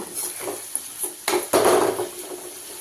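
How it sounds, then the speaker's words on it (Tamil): Brinjal frying in a pan with rock salt is stirred, giving a few close scraping and clattering strokes of the spoon against the pan over a faint sizzle. "ஒரு 5 நிமிஷம் அப்படியே கிளறி விடலாங்க"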